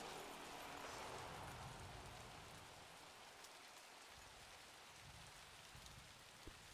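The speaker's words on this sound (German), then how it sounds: "der Regeneffekt auf dem Kanaldeckel" Steady rain falling on a manhole cover in the video game Little Nightmares II, a constant dense hiss with faint scattered drops and no voices.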